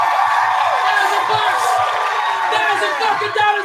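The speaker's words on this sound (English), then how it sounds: "Give me a round of applause for the bagging champion!" A crowd cheers and whoops loudly, with excited voices shouting over one another in a noisy, close-up roar.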